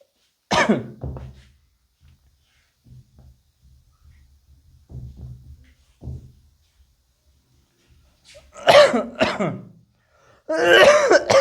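A few sharp coughs near the start, then quiet murmuring, followed by a louder burst of coughing and throat-clearing toward the end.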